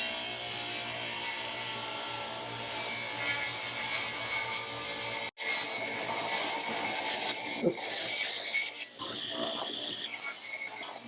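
A saw cuts through a wooden live-edge sawmill slab with a steady, close rasping stroke, then pauses briefly before rougher intermittent cutting and scraping noises follow.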